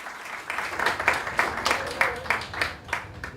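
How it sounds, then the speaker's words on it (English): An audience at a spring recital claps for a performer, a brisk run of many hands with even, steady beats, moderately close and continuous for a few seconds. "Makes a big round of applause for Trevor."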